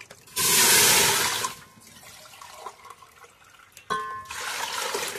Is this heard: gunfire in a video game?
no